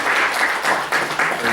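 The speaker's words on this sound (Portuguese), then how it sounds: "Uma salva de palmas." A lecture audience gives applause after the introduction, a dense burst of many hands clapping together, loud and continuous throughout.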